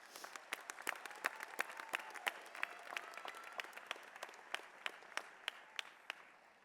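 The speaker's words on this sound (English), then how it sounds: "please join me in giving a big round of applause to your family and friends" A graduation ceremony crowd claps steadily, a dense rain of hand claps that carries on without pause from a fairly distant audience.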